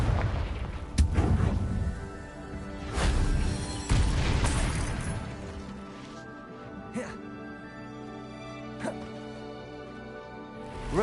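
Confringo blasting spells explode in Hogwarts Legacy, a series of heavy booms and bursts, loud at first and then sparser, with several separate hits and rumbling tails as a voice talks over them.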